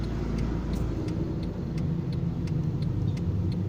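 A car engine, apparently a Bulldog car-engined motorbike, roars steadily and close at high revs throughout, holding a thick low rumble under the throttle.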